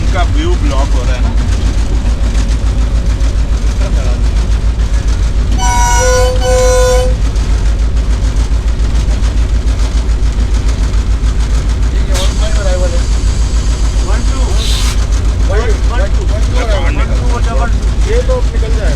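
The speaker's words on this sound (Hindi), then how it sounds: "Right hand right time arrival कर रही है मारवी पैसेंजर।" Marvi Passenger train arriving at a station in the Thar Desert, with a brief horn toot partway through, an engine rumbling steadily throughout, and a later hiss of air brakes, all under near, continuous talk.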